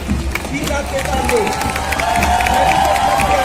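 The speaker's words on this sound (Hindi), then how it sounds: "जोरदार तालियों से स्वागत कीजिए पूर्व सैनिकों की झांकी का।" A large crowd at the Republic Day Parade in 2021 cheers and claps continuously for a veterans' float, a broad roar of applause under a Hindi loudspeaker voice, with a steady low rumble underneath.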